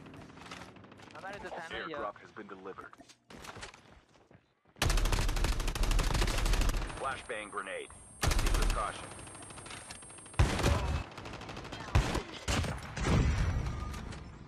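Bursts of rapid gunfire in several loud volleys, separated by quieter gaps with voices talking over game-like sounds.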